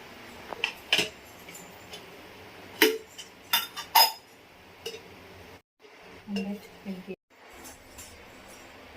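A metal pan clinking and clattering on the stove while frying okra for a curry, with sharp scattered knocks and brief scraping sounds in a quiet kitchen, and light speech in the background.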